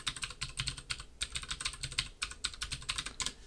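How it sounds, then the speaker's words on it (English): A new server password is typed on a computer keyboard, brisk, close keystrokes in two quick bursts separated by a short pause, ending with a press of the Enter key and no voices. "now you're going to type the new password that you want to use. Hit enter one more time."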